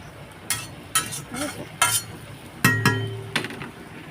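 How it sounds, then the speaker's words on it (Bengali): A spoon stirs and scrapes potato and soybean curry in a metal kadai. About seven separate strokes scrape and clink against the pan at close range over a low background sizzle. "এই দেখো কড়াইতে এগুলো এখন একটু ছাড়িয়ে ছাড়িয়ে আবার দিয়ে দেবো"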